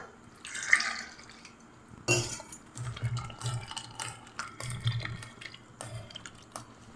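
Chopped bottle gourd pieces being rinsed in water nearby, with irregular drips, splashes and light clinks that come and go over a few seconds.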